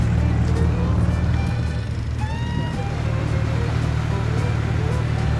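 Outboard boat motors, including a Hidea 60 rigid-mounted on the transom of a Fregat 5 tunnel-hull boat, run steadily on a river spit, a dense continuous low engine drone with a faint bird-like chirp above it.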